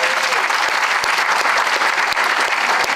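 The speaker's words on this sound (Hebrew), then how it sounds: "עכשיו מותר שיהיו מחיאות כפיים" Steady, dense applause from an audience fills the room, a full round of many hands clapping at even loudness with no voices over it.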